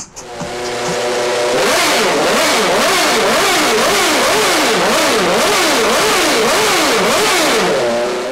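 A loud racing engine roars continuously, revving up and down in a steady, repeating rise-and-fall pattern with no other sounds.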